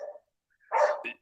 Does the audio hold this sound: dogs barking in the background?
yes